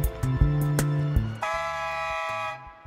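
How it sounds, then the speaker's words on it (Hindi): A walrus blows a Swiss horn in wavering, pitched tones, one note then shifting to a brighter, higher blare, held for a couple of seconds close up. "ये हॉर्न बजा लेती है"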